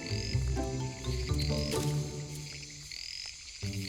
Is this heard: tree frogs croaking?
yes